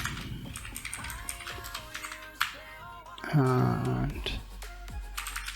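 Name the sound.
typing code on a computer keyboard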